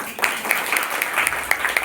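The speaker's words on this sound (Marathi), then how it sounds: "सगळ्यात एकदा जोरदार टाळ्या वाजवा" An audience claps at a book event for a poetry collection: a sustained round of applause with sharp individual claps standing out, fairly loud and close, with faint voices underneath.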